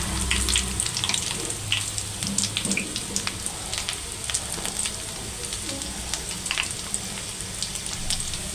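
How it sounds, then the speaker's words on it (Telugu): Garlic cloves, dry red chillies, mustard seeds and cumin fry in oil left from frying bitter gourd for a pickle, a continuous close crackling sizzle peppered with sharp little pops, and no talking. "ఇప్పుడు మనం కాకరకాయలు వేయించుకున్న ఆయిల్ ఉంది కదా, అందులోనే ఒక 4 వెల్లుల్లి రెబ్బలు, 2 ఎండుమిరపకాయలు, ఒక 1/4 టీ స్పూన్ ఆవాలు, ఒక 1/4 టీ స్పూన్ జీలకర్ర"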